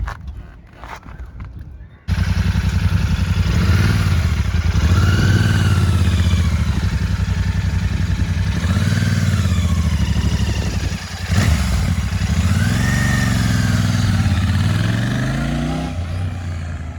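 A Royal Enfield Continental GT cafe racer motorcycle engine drones steadily and close, rising and falling in pitch as it revs while riding, continuous throughout with no talking.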